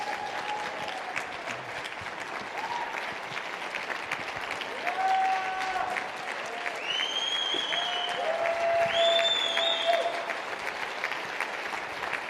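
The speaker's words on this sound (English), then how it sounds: "So give a big round of applause for the company." Moderate applause from a seated audience for a company's team at a nutrition business event, a steady crowd patter lasting several seconds, with faint whoops and whistles rising over it midway.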